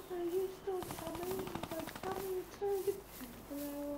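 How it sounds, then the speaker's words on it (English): A minigun in Fortnite fires in rapid bursts of tightly packed shots, moderately near, with a player's voice talking over the gunfire in places. "Someone's just down here with a minigun."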